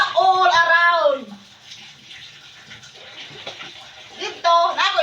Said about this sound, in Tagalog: Manghugas og plato.